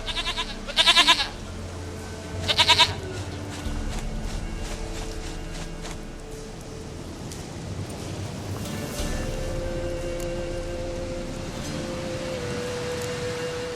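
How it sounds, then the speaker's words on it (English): Goat bleating in The Witcher 3: Wild Hunt, two short loud wavering bleats early on, then footsteps and a low ambient game background. "Goat of mine, dearest, sweetest goat."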